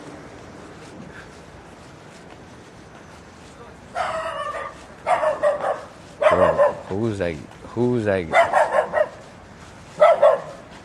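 A dog barks several times in quick bursts at close range, with whiny yips mixed in, while people talk nearby.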